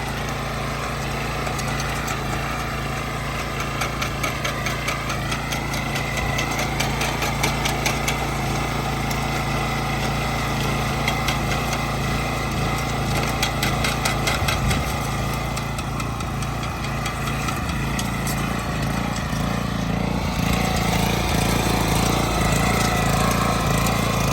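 A petrol engine on a garden soil tiller for vegetable beds runs steadily, a loud, even mid-pitched putter with slight knocking, close and alone without talk.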